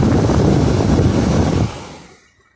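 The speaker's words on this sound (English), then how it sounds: "There's a little bit of wind noise. Your air goes out the side here." A HomeLabs HME020030N home dehumidifier's fan blows air out of its side in a steady, close, breathy rush that abruptly drops away and fades into near silence in the final second.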